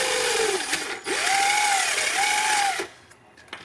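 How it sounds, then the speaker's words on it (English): A hand-held power drill with a step bit bores into the body of an old-school Tamiya RC car, a loud whirring run with a rising and dipping pitch for about two seconds before it stops. "Just drilling into an old school Tamiya."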